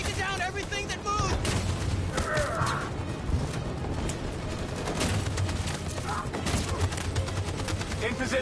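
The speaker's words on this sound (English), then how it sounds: "That machine gun is taking down everything that moves!" Heavy, continuous machine gun fire in Detroit: Become Human during the escape from Jericho, relentless rattling bursts with explosions and shouting voices layered over the din.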